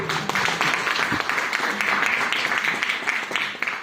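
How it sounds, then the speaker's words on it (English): An audience at a book launch at the Nehru Centre in London applauds, dense sustained clapping from many hands that fills the room at a steady, loud level throughout. "the young can start applauding the parents and grandparents who made it possible for the next generation to do so well in this country"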